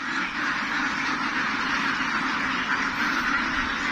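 A flock of domesticated RTL itik ducks, about six months old, kept as laying poultry, makes steady, dense quacking that carries through the whole stretch with no talk over it.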